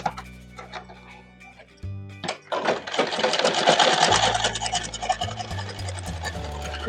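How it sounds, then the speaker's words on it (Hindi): A sewing machine stitches a blouse sleeve, running in steady bursts with a brief pause early, then a long loud continuous run of rapid needle clatter close by, with no speech. "तो दोनों को बराबर सिलाई लगाते हुए हम बाजू को ज्वाइन करेंगे।"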